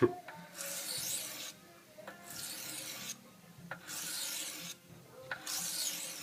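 A kitchen knife is sharpened on a whetstone in four rhythmic back-and-forth passes, each a gritty rasping stroke with a small tap at its turn, close and clear with brief pauses between.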